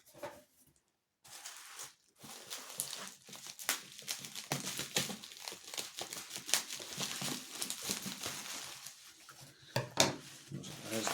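Plastic and paper crinkle and rustle continuously as things are shuffled and moved around close by, with occasional knocks and clatters.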